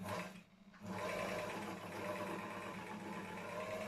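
A repaired Gemsy Gem 1 D three-thread overlock sewing machine runs in a fast, even whir, pausing briefly at the start, then stitching fabric steadily at close range.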